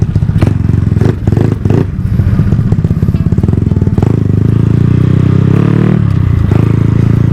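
Motorcycle with new inner tubes being ridden, its engine loud and close with a throbbing, rising drone and some rattling clatter, shifting pitch as it accelerates.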